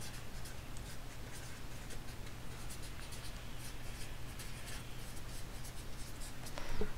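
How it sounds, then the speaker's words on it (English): Marker or chalk writing on a board during a machine learning lesson, faint scratchy strokes in short irregular bursts over a steady room hum, with no talk. "Let me write here."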